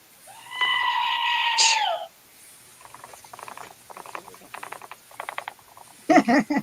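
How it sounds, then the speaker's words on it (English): A screaming goat call, a loud wavering bleat lasting over a second, followed by a run of quieter rapid clicks and taps and a final short burst. "Warning, warning, screaming goat."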